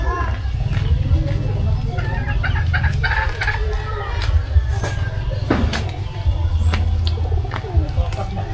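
Chickens cluck and call near a newly built chicken coop, a busy flock close by with repeated bursts over a low hum, as people talk nearby.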